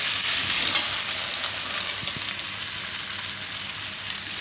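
Corn and paneer fry in oil in a pan, giving a steady, close sizzle with occasional stirring scrapes throughout.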